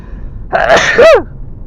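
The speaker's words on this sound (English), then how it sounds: "I have to sneeze." A single loud, close sneeze: a sharp inhaled build-up followed by an explosive burst that trails off quickly, with quiet before and after.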